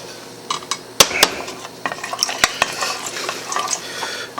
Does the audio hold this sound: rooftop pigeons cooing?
no